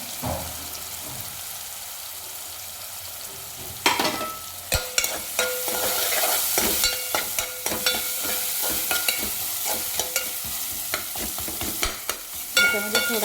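Chopped onions frying in a pan for a prawn and okra curry, a steady sizzle with repeated spoon scrapes and knocks as they are stirred, close and fairly loud.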